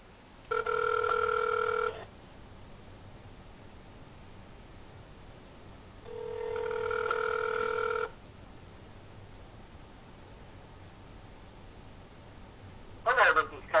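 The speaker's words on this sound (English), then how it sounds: "I'm going to call Connor Asher" Two long ringback tones sound on an outgoing telephone call, each about two seconds long and several seconds apart, clear and steady over faint line hiss, with a short burst of sound near the end.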